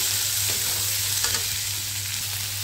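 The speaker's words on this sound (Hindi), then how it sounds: "अब इसमें हम ऑनियन डाल देंगे और ऑनियन को डाल के भी थोड़े से फ्राई" Onions fry in a pan for a raw jackfruit chilli dish, giving a steady close sizzle with a few soft stirring scrapes and no talking.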